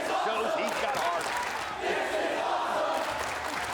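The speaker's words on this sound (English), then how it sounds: "The crowd yelling, "This is awesome!"" A large wrestling crowd at a TNA Turning Point 2004 pay-per-view roars and chants in unison, a dense, steady wall of voices that never lets up.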